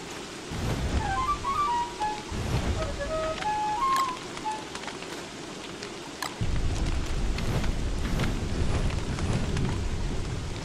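Rain and thunder in the Don't Starve survival game: a steady hiss of rainfall with low rumbling thunder swelling twice, plus short chiming game tones near the start.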